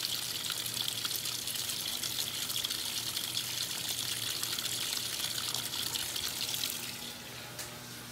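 A washing machine fills with water in a steady, even rush of running and splashing that holds for several seconds, then drops to a quieter trickle near the end, with no talking.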